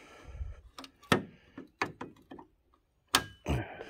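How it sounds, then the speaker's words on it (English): A functioning gas tank door on an old 1956 four-door station wagon being worked by hand: a series of sharp metallic clicks, taps and clunks, close and fairly loud, with brief pauses between them and no talking. "this little car still had the functioning gas tank door"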